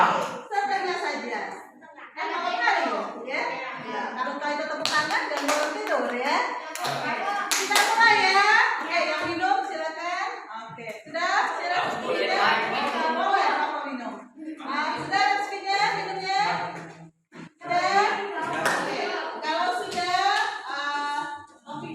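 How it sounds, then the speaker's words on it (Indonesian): A group claps hands together in an Indonesian classroom lesson, bursts of clapping mixed with children's voices and ongoing talk throughout. "silakan kita tepuk tangan dulu nah ya"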